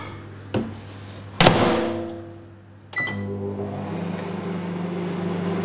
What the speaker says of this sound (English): I'm just going to put the butter in there, in the microwave